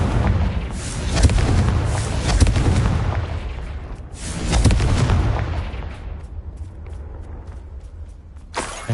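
Confringo spell explosions in the game Hogwarts Legacy boom in several heavy, rumbling bursts, the loudest early and around the middle, fading to quieter crackles before a sharp final pop.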